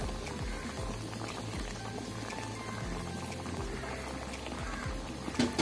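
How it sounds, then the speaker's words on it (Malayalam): Shark fish curry in tamarind water boils steadily in a pan, a dense continuous bubbling and popping that stays close and even throughout, with no voices. "അപ്പോൾ നമുക്ക് ഒന്നും കൂടി ഒന്ന് തിളപ്പിച്ചെടുക്കാം."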